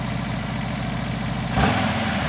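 A Tofaş Şahin car engine idles with a steady low rumble, then surges as the throttle is blipped near the end, the exhaust note rising sharply.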